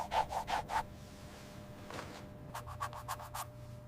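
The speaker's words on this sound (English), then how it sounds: "Edges are sanded and polished repeatedly to achieve a smooth, enduring finish." Edges of small ostrich leather goods being sanded and polished by hand, quiet rhythmic rubbing strokes in short quick bursts, with a pause between groups.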